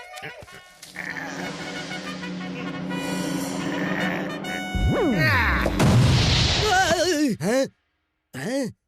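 A bomb blows up under a man who steps on it in the Salaar: Ceasefire film, a sudden deep boom that bursts through a loud orchestral score midway, followed by swooping, warbling effects and brief silence.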